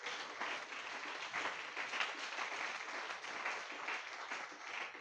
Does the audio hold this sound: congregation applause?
yes